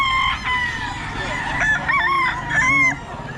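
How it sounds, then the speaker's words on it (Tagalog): Roosters crow and chickens cluck at a busy poultry market, several loud overlapping calls rising and falling close by over a low crowd murmur. "Maraming manok dito ngayon, si Boss Randy."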